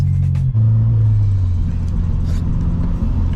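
A 2014 Subaru BRZ's exhaust rumbles loud and close while driving, a deep steady drone that briefly dips and picks up again.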